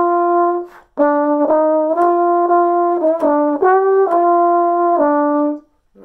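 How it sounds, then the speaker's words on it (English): A trombone plays the opening measures of the A Tisket A Tasket melody as a string of clear, separately tongued notes moving up and down in a bouncy rhythm, loud and close, with a brief pause near the start. "I'm going to play my trombone"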